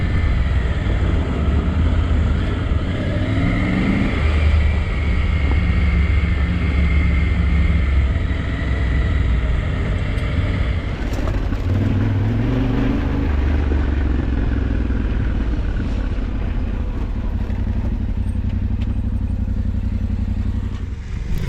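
Adventure motorcycles, a Yamaha Ténéré 1200 and a Honda Africa Twin 1100 on road tyres, ride a gravel track in the Alps, engines droning steadily close by with crunching and clattering stones beneath the wheels throughout.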